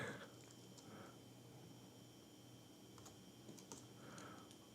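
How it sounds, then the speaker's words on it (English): Keys tapped on a computer keyboard in quiet, sparse clicks and short bursts, faint and close against a steady background hum, with no voices. "I hit W on my keyboard"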